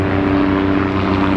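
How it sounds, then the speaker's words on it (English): A low-flying propeller airplane passing right overhead above a yard, a steady, loud droning hum with a constant engine tone throughout the short stretch. "we're going to get low-flying airplanes right over Peter's yard."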